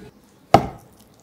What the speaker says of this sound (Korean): 식물성 단백질 두부는 반을 잘라